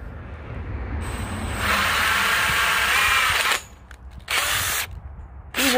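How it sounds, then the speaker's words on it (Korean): A power drill drives a screw into a vinyl greenhouse pad, whirring steadily at close range for a couple of seconds, stopping, then starting again in short bursts with clicking and grinding as the bit bites. "이 피스를 이용해서 여기에 구멍을 먼저 한번 뚫어줘요"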